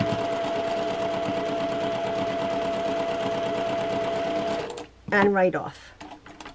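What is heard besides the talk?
sewing machine stitching a quilt seam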